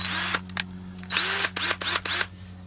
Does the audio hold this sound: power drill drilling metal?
yes